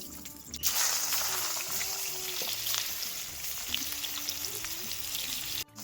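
Steady loud sizzling of mirka fish, coated with turmeric and salt, frying in hot oil, a continuous crackling hiss with occasional soft pops, close by.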